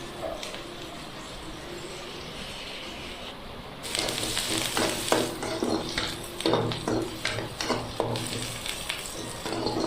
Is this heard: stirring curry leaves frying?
yes